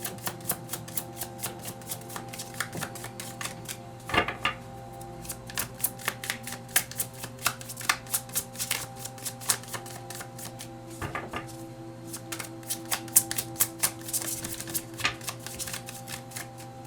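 Tarot cards are shuffled close by, with a steady run of papery riffles and clicks and a few sharper snaps as the deck is squared. No one speaks.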